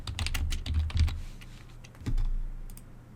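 Fast keystrokes on a computer keyboard while typing into a Windows 10 settings search: a quick cluster of clicky taps, a short pause, then a few more scattered presses, close and clear with no talking.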